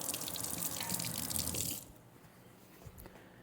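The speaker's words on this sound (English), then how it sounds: "Give that a rinse." Water from a running tap splashes loudly as something is rinsed under it, a dense hiss for almost two seconds before the flow stops and a few faint drips follow.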